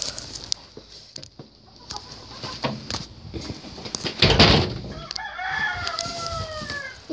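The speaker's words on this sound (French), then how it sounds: "j'ai une poule qui glousse, mais qui ne couvre pas" Chickens in a poultry yard, including a broody hen that clucks but will not sit on eggs: scattered short clucks and knocks, then a drawn-out, wavering call rising near the end, fairly close.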